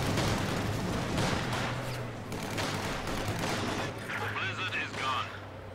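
Grenades and rifle fire in a WWII strategy video game: a dense, continuous clatter of distant gunfire and muffled blasts, with a few sharper high tones near the end.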